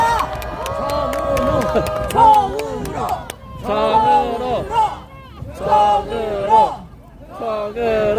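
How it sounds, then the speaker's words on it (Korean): A crowd at a Democratic Party protest rally gives quick scattered claps, then loud rhythmic shouted cheers and chanting voices rise and fall in bursts. "큰 박수 부탁드립니다."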